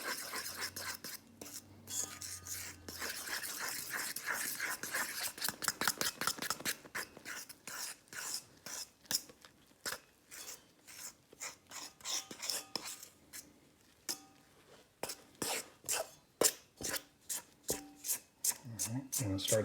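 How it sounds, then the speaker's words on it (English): Bread dough, with salt just added, is mixed by hand as it thickens, giving soft, irregular squelching and slapping sounds that grow into a quick rhythmic series of close, sticky pats. "When it starts getting thicker like this, come in with your hands and mix it up."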